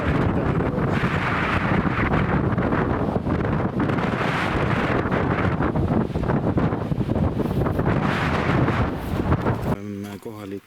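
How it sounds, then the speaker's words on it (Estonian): Strong wind blows spray off a waterfall, producing a loud, continuous buffeting roar that batters the microphone before easing near the end. "see nagu tugev tuul lennutab selle joa õhku ära laiali"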